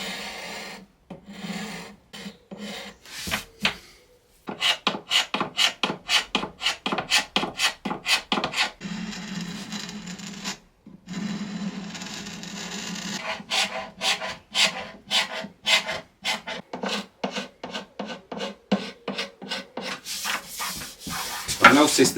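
Hand scraper rasping finish off an art deco wooden nightstand, with rapid rhythmic back-and-forth strokes in long runs, close and fairly loud, broken by short pauses.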